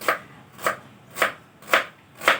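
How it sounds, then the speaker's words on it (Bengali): A knife chops an onion on a board in five even, close, crisp strokes about half a second apart, with no voices. "পেঁয়াজটা কেটে নিচ্ছি"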